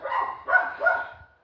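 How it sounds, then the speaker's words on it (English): A dog barks in a short close series of three yappy barks, loud and clear against quiet surroundings. "Always got the dogs barking."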